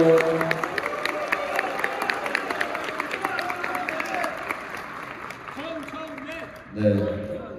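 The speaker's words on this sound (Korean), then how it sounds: "제가 이 정도 박수를 받고 연설한 적이 한 번도 없습니다" Audience applause at a political event, steady clapping from a crowd at moderate level running under a man's speech, with a brief louder burst near the end.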